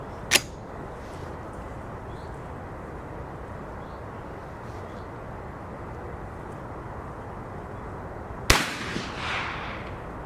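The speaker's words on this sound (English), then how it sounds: "So let's have another go, another 10 rounds." A Schmeisser SP-9 fires 9mm Parabellum rounds at a steel gong 225 metres away: two sharp, isolated shots crack several seconds apart over a steady outdoor wind rush.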